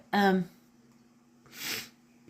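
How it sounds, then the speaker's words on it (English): Two quick sneezes from a cat, a sharp nasal burst followed by a softer, breathier one, close and otherwise quiet. "My kitty sneezing."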